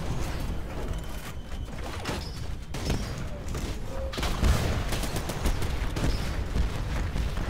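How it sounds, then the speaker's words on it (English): Gunfire in a shooter video game crackles as scattered shots and short bursts over a busy mechanical backdrop, with several sharper impacts midway, and no voices. "Who's shooting at me?"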